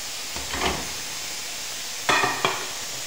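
Onions stirred in a hot oiled pan, giving two short bursts of scraping and sizzle about a second apart, close and moderately loud over a faint steady hiss, with no voices.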